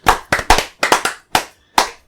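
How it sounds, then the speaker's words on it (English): Hands clap in a short, uneven burst of about seven sharp, close claps, a few people joining in a quick round of applause with brief silent gaps between the claps. "can we just get a round of applause, boys?"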